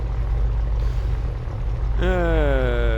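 Skymaster II light aircraft engine run-up in Microsoft Flight Simulator 2024: a steady low engine drone rises sharply about two seconds in, its rising tones climbing as the revs build, loud and continuous.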